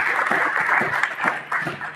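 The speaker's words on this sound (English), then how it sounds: "Let's give everyone a round of applause." Audience at a tech conference gives a round of applause, a steady dense patter of many hands clapping at close range for about two seconds, with no one speaking.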